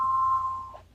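A mobile phone notification sounds as a single steady electronic tone held for about half a second, fairly faint, then fades, with a soft low background hum and no talk.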